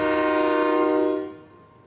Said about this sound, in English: I've got train whistles off of a locomotive that gets people's attention.